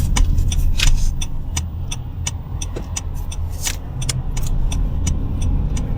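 Busy road traffic along Marine Drive near Richmond, Canada, heard from inside a moving car: a continuous low road and engine rumble, with passing vehicles and light rattling repeating throughout.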